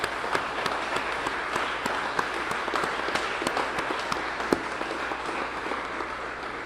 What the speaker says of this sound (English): Would you please join me for a round of applause for all those?